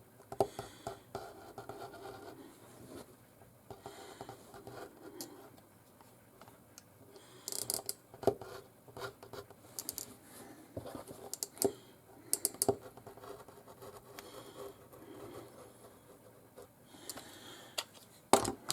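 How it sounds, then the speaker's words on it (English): A rotary cutter rolls along pattern lines through fabric, giving close, crisp ticking and crunching bursts in irregular runs with short pauses between strokes. "you can just go ahead and cut with your rotary cutter along the outside lines"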